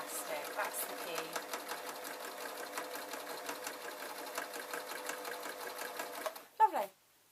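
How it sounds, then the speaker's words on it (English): A sewing machine stitching through elastic runs steadily at a fast rhythmic pace, then stops near the end with a brief clunk and squeal. "So just sewing off the end"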